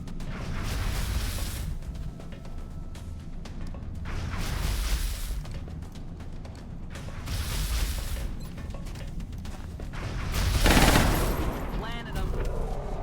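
Infantry gun firing in a strategy video game, bursts of heavy gunfire arriving in several loud waves over background game sound, the strongest blast near the end, mechanical clatter between bursts.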